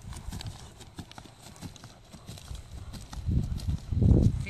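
A horse's hooves strike the ground in a steady walking rhythm, with muffled thuds that grow louder and heavier toward the end over faint outdoor background noise.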